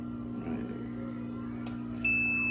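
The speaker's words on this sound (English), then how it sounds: "See, it's alarming." A Kamoer ATO One 2 water level controller's overflow alarm: a high electronic beep starts abruptly near the end over a steady low hum, after a soft splash and a faint click.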